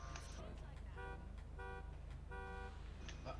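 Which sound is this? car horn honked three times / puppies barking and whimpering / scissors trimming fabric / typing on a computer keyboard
car horn honked three times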